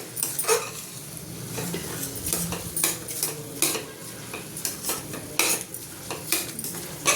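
A spoon stirs tomato rice in a cooking pot, giving repeated scraping and clinking strokes against the metal with a soft sizzle underneath, close and moderately loud.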